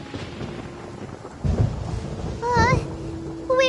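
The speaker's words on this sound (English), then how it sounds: "Paimon hears thunder!" Rolling thunder in the video game Genshin Impact, a low rumble swelling in two bursts over a steady rain-like hiss, with brief game sound cues and voice bits near the end.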